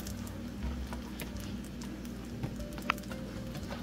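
French toast slices frying in a pan just after being flipped, giving a steady close sizzle with light crackle and a couple of small pops throughout.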